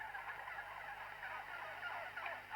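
A flock of farm turkeys gobbles continuously in a dense, overlapping chorus, fairly faint and slightly distant, with no talk.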